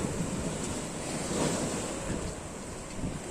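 Rough sea waves crash and roar at high tide on a new-moon spring tide at Digha, a steady dense surf rush with wind buffeting the microphone, loud and close.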